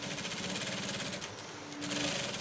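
Domestic sewing machine stitching with a presser foot, a steady fast mechanical whirr and rattle running continuously and close, with no talk over it.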